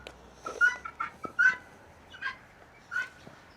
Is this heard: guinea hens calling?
yes